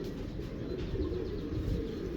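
A fancy pigeon from a breeder's loft gives soft, low, rumbling coos, close and continuous, with faint rustling around it.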